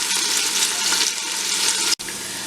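Onions frying in oil and lightly caramelizing, a loud continuous close-up sizzle with crackling texture and a brief break near the end, no voices.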